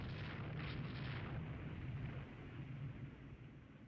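In the naval warfare game Rule the Waves 3, a missile strikes a destroyer, producing a faint, sustained explosive rumble that swells early and then slowly settles.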